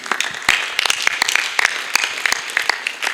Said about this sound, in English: Applaud him again, please.